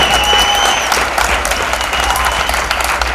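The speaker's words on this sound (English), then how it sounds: "I want all the players in particular to put their hands together and applaud the name of Jean-Pierre." An audience at a Caribbean sports event bursts into sustained, loud applause, a dense wash of clapping that carries on evenly throughout.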